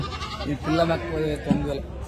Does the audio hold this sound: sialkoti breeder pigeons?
no